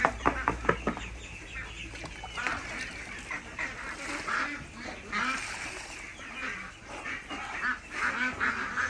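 A flock of Peking ducks honks and quacks at feeding time, with a burst of loud calls at the start and then a busy, overlapping chorus of nasal honks from several birds close by.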